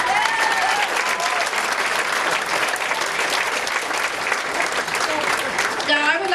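Sustained crowd applause for campaign volunteers at a Liberal Party election event in Trinity-Spadina, Toronto, steady dense clapping that fills the whole stretch, with a few voices mixed in near the end.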